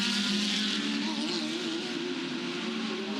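Lamborghini GT race cars battling wheel to wheel at the Adelaide circuit in Australian GT racing: a continuous, slightly distant high engine whine and roar with steady level and no break, no speech.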